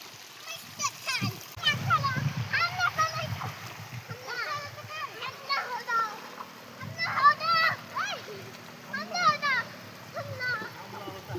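Children splash water at a hidden waterfall near Pune during a family outing, with repeated splashes and churning water under excited kids' voices and shouts.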